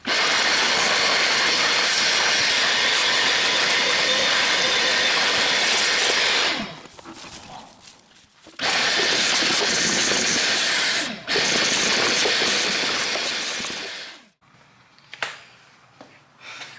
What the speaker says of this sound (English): Just a little bit more I could vacuum out.